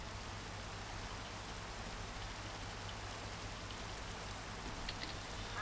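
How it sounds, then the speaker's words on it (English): Steady, constant rain in the Minecraft video game hisses evenly throughout at a faint, unbroken level, with no voices over it. "For the last 2 episodes or 3 episodes, it's just been constant rain."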